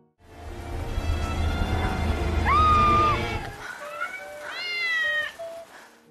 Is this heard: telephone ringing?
no